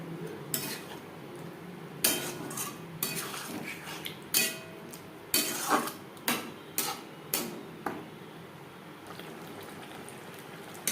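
A utensil clinks and scrapes in a pan while chilli chicken is stirred with onions, tomato sauce and soy sauce, irregular close taps and knocks over a faint low simmer, no talking.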